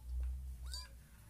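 A kitten gives a single short, faint meow near the middle, with a quieter high chirp just before it, over soft low rumbling in a home.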